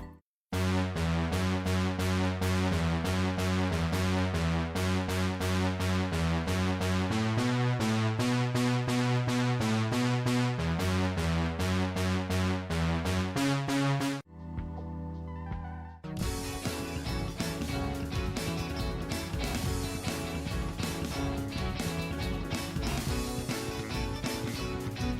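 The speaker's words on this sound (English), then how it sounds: "Next up, some pads, polysynth to add some more depth to the song" Solo polysynth pad track, dense sustained chordal layers pulsing in a steady rhythm, then a brief low hush before a washier, brighter pad texture returns, continuous with no voices.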